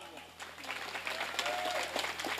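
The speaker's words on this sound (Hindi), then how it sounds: "एक तालियां अब बजा दीजिए" Audience clapping at a mushaira poetry gathering, scattered and moderately faint, building through the stretch with a voice speaking over it.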